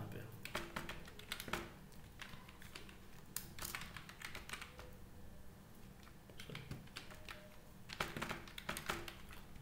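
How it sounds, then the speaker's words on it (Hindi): Computer keyboard typing in bursts of quick, close keystrokes as data is entered into a Microsoft Access table, with short pauses between runs and someone speaking over parts of it. "तो एक बार मैं एक कुछ डेटा टाइप कर देता हूँ यहाँ पे"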